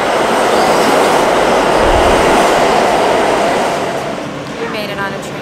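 Loud, continuous rumbling roar of a New York City train rushing close by, a dense rushing noise that slowly eases off toward the end.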